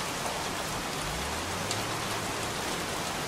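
Continuous rainfall in Heavy Rain, a soft, dense patter of drops hitting the ground, steady throughout with a faint low hum passing underneath and no speech.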